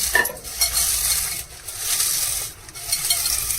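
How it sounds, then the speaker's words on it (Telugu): Bitter gourd deep frying in a pan of hot oil, a steady close sizzle with brief dips and a few light clinks of utensils stirring through it. "డీప్ ఫ్రై చేసుకోవాలి మంచిగా మనం."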